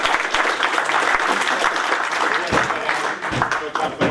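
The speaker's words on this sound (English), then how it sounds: "let's make sure we give Felix a round of applause" Audience applause for Felix, the presenter of a talk in the Ansible room at the Cfgmgmtcamp conference, a steady dense clapping that fills the room for several seconds, with a voice talking over it.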